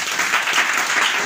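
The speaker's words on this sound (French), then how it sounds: "On met les acclamations à notre Dieu." Brief burst of applause from a church congregation clapping in worship to God, a dense, steady wash of hands at moderate level.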